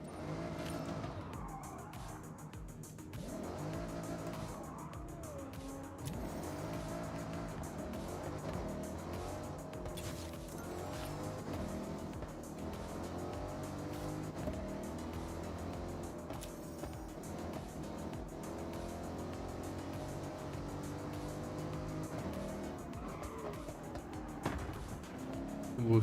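A Chevy Corvette in Forza Horizon drives steadily with a continuous engine drone that rises and falls with gear changes, plus faint tire squeal, fairly quiet throughout.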